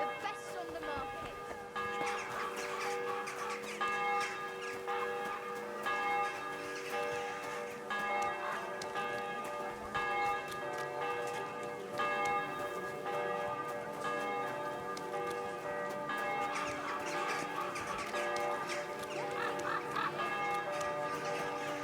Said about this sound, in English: I guess around noon the bells toll all crazy like